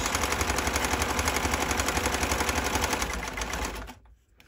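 A sewing machine running a regular straight stitch on boxers fabric, a steady fast mechanical whir with rhythmic needle clatter, close and loud, before stopping abruptly near the end.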